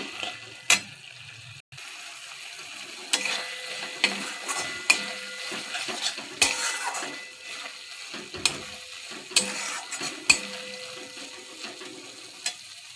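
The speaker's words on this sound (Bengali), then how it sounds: "তিল বাটাটা একটু সিদ্ধ হওয়ার জন্যে ফুটিয়ে নেব।" Ground sesame paste thinned with water bubbles in a pot, a soft continuous simmer broken by scattered sharp pops and clicks, close and fairly quiet, with no voices.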